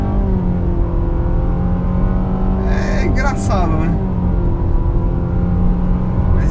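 A 2023 Nissan Sentra 2.0 16V Advance with a CVT accelerates at full throttle, its engine holding a steady, loud drone from inside the cabin throughout, with a brief higher whine mid-clip and a voice speaking over it.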